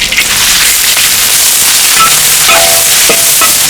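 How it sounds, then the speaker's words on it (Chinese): Beef sizzling and crackling as it is stir-fried in a wok, a loud, continuous hiss with occasional spatula scrapes and clinks against the pan. "这个牛肉啊越炒越香了"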